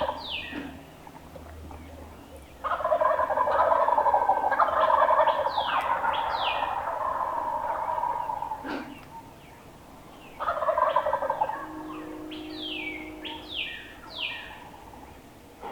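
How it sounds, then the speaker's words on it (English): A flock of about twenty wild turkey gobblers erupts in loud, overlapping gobbles in two bursts, with other birds chirping faintly and quieter gobbles between them. "Man, it's gotta be at least 20 gobblers."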